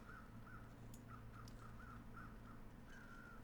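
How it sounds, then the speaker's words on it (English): Crows caw repeatedly in the survival game The Long Dark, a series of short, evenly spaced calls ringing out over a steady low wind bed, faint and somewhat distant. "crows are circling, which usually heralds dead things."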